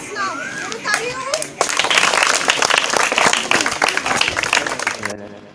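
Audience clapping at the start of a village game, a dense burst of applause that swells and carries on for several seconds amid children's voices and chatter, then cuts off abruptly.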